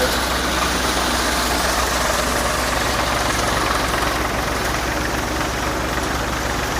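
A Shree Balaji thresher driven by a tractor engine threshes pigeon peas, giving a loud, steady mechanical drone with a low engine rumble that runs constantly without pause.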